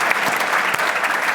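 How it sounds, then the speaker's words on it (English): Audience applause during a panel discussion about Auckland, a brief, dense, even burst of many people clapping at close range. "Give a clap."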